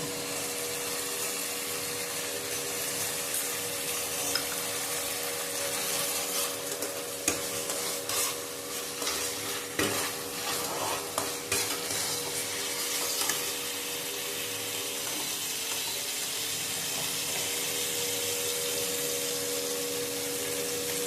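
Dhoka dalna with chilli powder and salt is stirred in a pan, giving a steady low simmering sizzle with intermittent spoon scrapes and clatters and a faint constant hum underneath, close and without speech.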